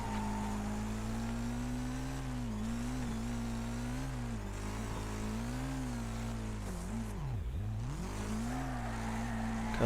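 Racing cars in the Wreckfest video game give a continuous engine drone that rises and dips in pitch as the car accelerates and slows, with no voices over it.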